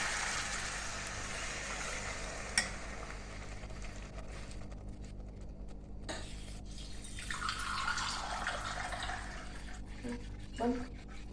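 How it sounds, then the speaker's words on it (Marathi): Water poured into a pot of vegetable pulao masala for rice pulao, a steady splashing pour swelling mid-clip, with faint clinks of the vessel and background hum. "म्हणजे सहा फुलपात्र आपण पाणी घालायचं"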